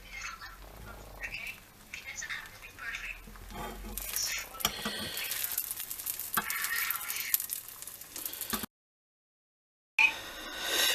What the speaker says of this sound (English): frying pan is nice and hot, so we're just going to tip it on in.